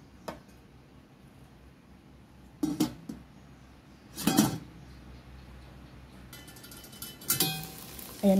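A metal lid is set onto a pot of arroz caldo with several clinking knocks spread apart, close and fairly loud over a quiet kitchen background.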